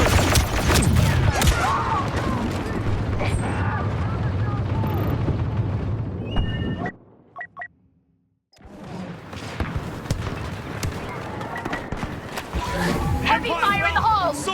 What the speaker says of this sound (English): Heavy fire in the halls!